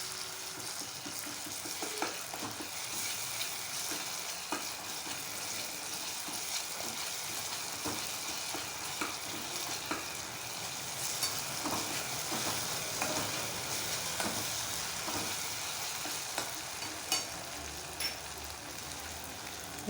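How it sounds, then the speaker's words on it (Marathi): Tomato and ginger garlic paste stirred together in a frying pan for dal tadka: a steady, fairly quiet sizzle with regular scraping taps from the stirring spoon, close by and with no talking. "त्यात आता आलं लसूण पेस्ट मी घातलेली आहे, एकत्र करून घ्यायचं आहे।"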